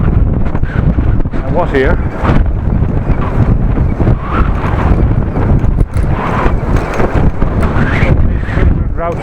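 Very heavy wind roars and buffets a microphone during a bike ride on a cold-weather route, a loud, constant low rumble with gusty surges, under a man's intermittent speech.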